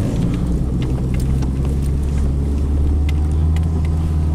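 A cheap car spins donuts on a rural back road, its engine a continuous low rumble with steady droning drive noise and light wind buffeting throughout.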